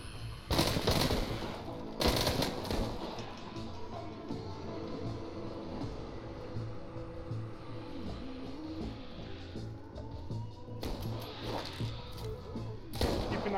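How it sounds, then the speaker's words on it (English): Gunfire from a VR zombie shooter set in the mines of Arizona Sunshine: several sharp, loud shots burst near the start and again toward the end over a steady rumbling game ambience, with no talking. "I'm shooting him around here."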